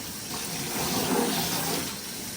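Water from a hydroponic tank empties into a kitchen sink as a continuous rushing, splashing pour that swells slightly in the middle and holds steady throughout.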